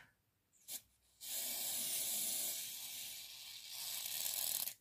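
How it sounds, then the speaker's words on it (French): A can of spray glue hisses steadily for several seconds as adhesive is sprayed onto a miniature taco food truck model, preceded by a brief click and rattle. "Et je secoue bien comme il faut de ma colle en spray."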